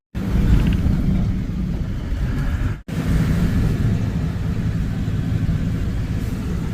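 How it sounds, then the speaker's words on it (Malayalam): A small bus driving through countryside, a continuous low engine and road rumble from inside the cabin, broken by one very brief dropout, with no talking. "ഒരു ചെറിയ ബസ്."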